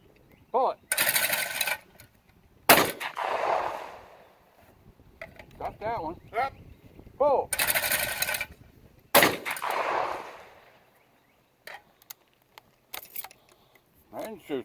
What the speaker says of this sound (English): Let's try the Bakal double 12.